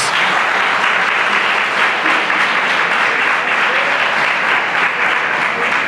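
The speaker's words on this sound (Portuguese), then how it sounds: "Aplauda esse Deus em nome de Jesus." A church congregation applauds in a sustained burst of clapping, a dense, even wash of many hands filling the room for several seconds without a pause.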